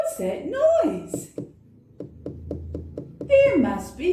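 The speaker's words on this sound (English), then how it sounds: "There must be someone else at the door." Seven or so quick knocks on a door, evenly spaced and moderately loud, come between stretches of speech, with talking before and after the knocking.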